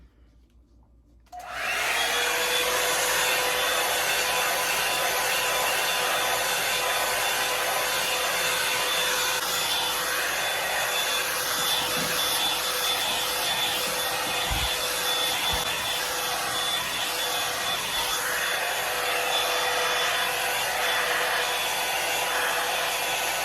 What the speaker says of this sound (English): Okay, let's start blow drying.